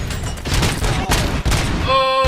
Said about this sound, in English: Got blown up with its own grenade.